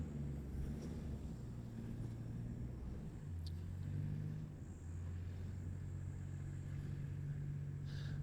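An off-road car's engine runs steadily while towing another vehicle on a rope, a low continuous rumble with slight shifts in pitch, fairly close and alone without talk.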